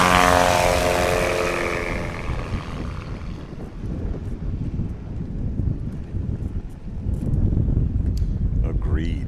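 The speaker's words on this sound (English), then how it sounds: "He did that textbook Supercub takeoff." A Piper Super Cub taking off at a STOL competition in Hartford, Wisconsin: a loud propeller engine roar that fades as the plane climbs away, then wind noise with people talking over it.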